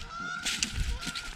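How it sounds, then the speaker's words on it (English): Canada geese honk in a garden setting, several loud, raspy calls in a short burst over steady outdoor background noise. "Here are the Canada geese."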